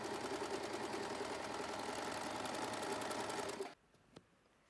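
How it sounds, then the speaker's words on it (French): A sewing machine runs steadily and fast while stitching contrast bands onto a swimsuit, then stops abruptly near the end, leaving a quiet room with one small click. "Utilisez pour cela soit la surjeteuse,"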